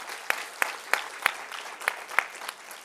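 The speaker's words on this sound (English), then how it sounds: "I'm glad you were clapping for the good news" Audience clapping during a company marketing presentation, a sparse, slow series of about seven distinct claps from one or a few people, crisp and evenly spaced.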